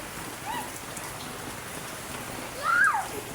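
Heavy rain falls during a flood, a steady loud hiss on surfaces with brief faint chirping sounds over it.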